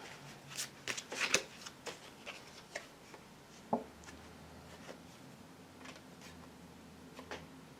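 Oracle cards from the Keepers of the Light Oracle deck being shuffled by hand, a quick burst of crisp riffling and taps followed by softer, sparse shuffling sounds, quiet and close.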